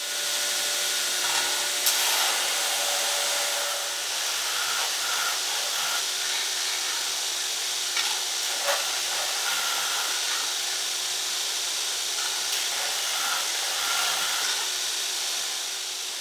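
A power grinder works down the corners of homemade plywood, a steady broad hissing rasp that runs continuously and fairly close, with brief sharper scrapes and bumps as the tool catches the edge.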